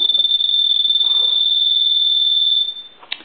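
A repaired gas pump telephone with a Gulf logo rings with a steady, piercing electronic warble for over two seconds, then cuts off, followed by a faint click, with no talking.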